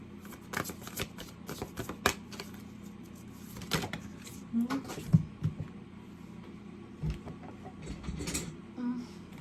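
Moonology oracle cards shuffled close by, a run of soft riffling flicks and papery slaps in uneven bursts, with faint background noise and no talk.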